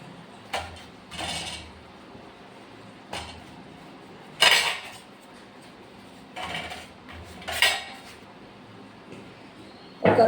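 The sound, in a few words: serving dal onto a plate, dishes and cutlery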